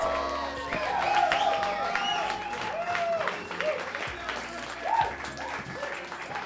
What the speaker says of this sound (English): Please give a round of applause for Tesh!